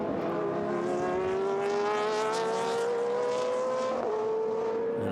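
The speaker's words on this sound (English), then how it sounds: "They see them go past Fredina's car" Race cars on the Algarve circuit in the video game Gran Turismo Sport, with one loud, sustained engine note rising steadily in pitch as the car accelerates, then briefly dipping at a gear change.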